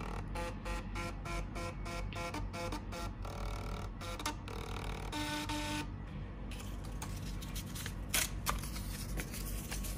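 A printer outputs a car inspection report at a Hyundai Accent service check, producing rapid rhythmic clicking and a whirring feed, close and fairly quiet, with no talking.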